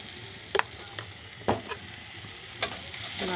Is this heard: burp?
no